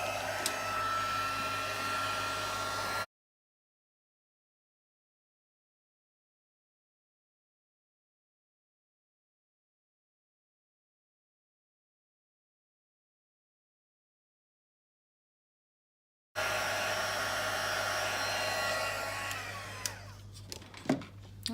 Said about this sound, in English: So I'm going to bring the heat tool in. Warm that up first and then heat it up.